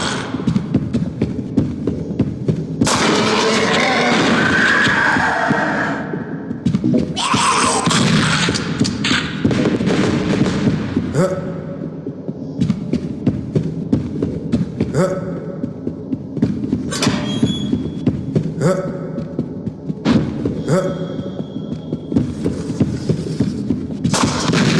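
Pistol shots in Xibalba, a Mayan-themed retro first-person shooter: sharp, loud game gunfire bursts with booming thuds, spaced irregularly amid other game effects and ambient hum.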